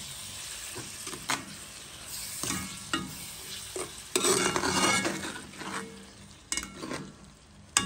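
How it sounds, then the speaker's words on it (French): Tomato cooking down in a pot for a fish curry, sizzling and bubbling under repeated scraping and stirring, with bursts of louder frying and metal utensil knocks against the pan. "Allez, mijote doucement. Le tomate, il mijote doucement"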